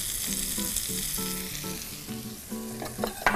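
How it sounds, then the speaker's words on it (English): Asafoetida sizzling in oil and butter for pasta, a steady loud frying hiss with stirring clatter, close up, and a voice talking over it. "let it nicely sizzle away in this oil and butter"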